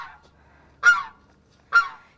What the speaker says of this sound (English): And there's Guinea Way the goose. He's always got something to say.